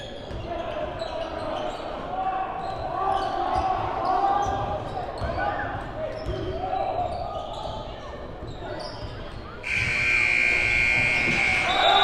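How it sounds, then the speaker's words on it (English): A loud electronic buzzer blares from a neighbouring court during an elite youth basketball game, arriving near the end as a steady tone over gym noise, a commentator's talk and bouncing balls. "Buzzer did not distract from the other court"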